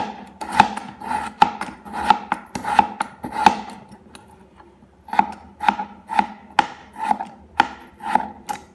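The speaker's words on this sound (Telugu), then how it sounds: "చాలా సన్నగా ఉల్లిపాయ ముక్కలంతా సన్నగా కట్ చేసుకోవాలి" An onion being cut very finely with a knife on a board, giving sharp, regular chopping taps in two bursts separated by a short pause, close and fairly loud, with no voices.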